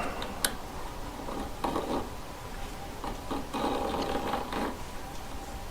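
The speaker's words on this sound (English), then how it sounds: "I rotate it as I'm grinding my file upwards over it." A hand file grinds upward over a diamond stud earring setting in short repeated rasping strokes, with small metallic ticks between them, close and fairly quiet.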